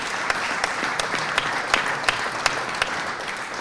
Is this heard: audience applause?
yes